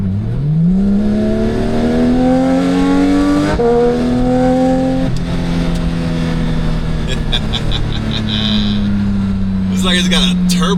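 A 2022 Porsche 911 GT3, naturally aspirated with its exhaust valves closed, revs up sharply and holds a strong rising drone through a couple of gear changes, loud and close, with faint chirps near the end.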